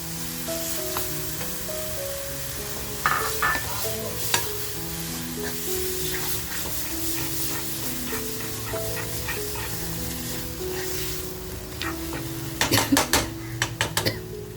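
Minced squid head tipped into a hot pan and stirred, a steady sizzle of frying under clattering utensil scrapes and metallic knocks against the pan, with a cluster of sharper clinks near the end, close and loud, no talk.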